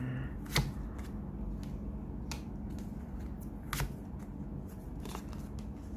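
Tarot cards being shuffled for a pick-a-deck reading, a soft continuous riffling with a few sharper snaps and flicks standing out, close and fairly quiet, no talk.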